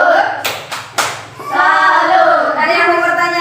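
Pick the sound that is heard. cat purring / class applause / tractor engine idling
class applause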